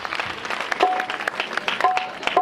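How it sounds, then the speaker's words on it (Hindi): An audience applauding at a Christmas celebration held by Landhi Church, with dense clapping that runs steadily through the short stretch and a faint voice underneath. "और इनकी टीम के लिए भी आई एम सबसे पहले इनके लिए जोरदार तालियां।"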